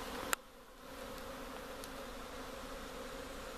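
A honey bee swarm buzzing outdoors near a hive, a faint, continuous low drone of many bees with a single sharp click near the start.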